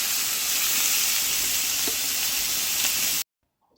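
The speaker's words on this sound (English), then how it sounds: "it's best if you kind of sear it on all sides if possible" A thin beef chuck steak sears in a pan with a loud, even sizzle and light crackling for about three seconds, which then cuts off abruptly to silence.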